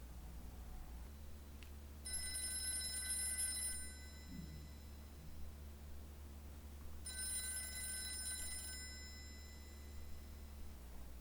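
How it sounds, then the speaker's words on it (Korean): A telephone bell rings in two loud, bright bursts of about two seconds each, separated by a pause over a faint, low room hum. "전화벨이 요란하게 울렸다."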